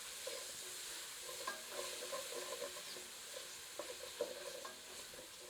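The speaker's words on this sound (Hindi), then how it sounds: "आंच मध्यम करके प्याज को सुनहरा होने तक भून लेते हैं।" Onions frying over medium heat in a pan for a dhaba-style palak chicken curry, a steady close sizzle broken by repeated scraping and clattering stirs of a spoon against the pan.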